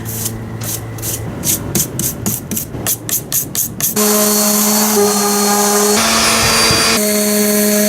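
A power sander works an old weathered wood plank, first in a rapid pulsing stutter of short bursts, then settling into a loud, steady whirring drone with a constant high whine, close up and with no voices.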